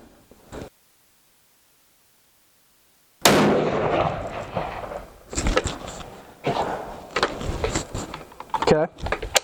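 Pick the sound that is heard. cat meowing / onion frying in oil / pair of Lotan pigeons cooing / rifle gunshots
rifle gunshots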